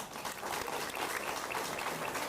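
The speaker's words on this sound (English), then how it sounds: "Let's give that a round of applause." An audience at a school district meeting claps for a student scholarship winner, giving steady, dense applause throughout.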